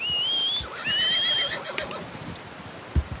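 A horse in the video game Red Dead Redemption II gives a loud, close whinny that rises and falls, followed by a few soft hoof clops and a brief thump.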